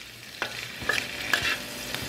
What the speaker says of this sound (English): Don't take long, you can hear it sizzling.